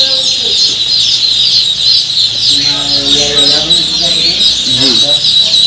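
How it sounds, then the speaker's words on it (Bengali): Beijing and Jinding ducklings calling on a farm, a dense, steady chorus of high peeping from many birds at once, with someone speaking over it partway through. "দেখতে পাচ্ছেন বেইজিং হাঁসের বাচ্চা। এই সেই অরিজিনাল বেইজিং হাঁসের বাচ্চা।"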